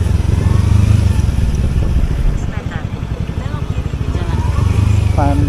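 A motorcycle engine labors up a steep road in low gear, loud and close with a throbbing, strained rumble that dips and rises, while someone talks over it.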